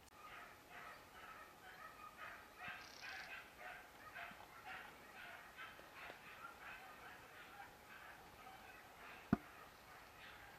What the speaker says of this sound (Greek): Όλη μέρα τα σκυλιά κυνηγάνε.